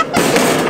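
A firecracker or toy rocket going off at a skatepark, a loud close burst of broadband hiss and crackle lasting under a second.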